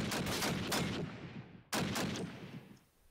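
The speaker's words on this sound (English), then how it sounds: "Shooting Crow through the A" Gunfire from Call of Duty 1.1 in a competitive league match: dense, loud bursts of rapid shots that cut off briefly, then resume at full volume.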